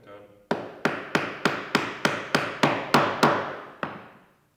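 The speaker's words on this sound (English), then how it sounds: "Gentle taps. Straight down this time." A chisel is struck straight down into wood to cut a mortise, giving about ten sharp, evenly spaced taps in a steady rhythm, close and fairly loud, followed by a short pause and one final tap.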